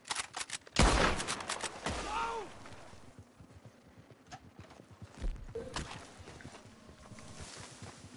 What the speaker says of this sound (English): the one shooting up on the cliff there